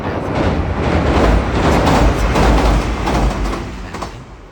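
A train passes near the Yamato River in Japan, a loud, steady broadband rumble and rattle that swells through the middle and eases slightly toward the end.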